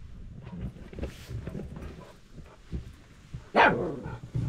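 A guard dog at a lone grass-thatched house in dense forest barks in short bursts, fairly close, with one sharp loud bark near the end amid low rumbling background.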